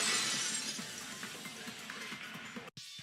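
A vase shatters in a Danganronpa 2 game sound effect: a bright crash of breaking glassy ceramic at the start, followed by scattered tinkling fragments that fade over a few seconds before a brief cut to silence.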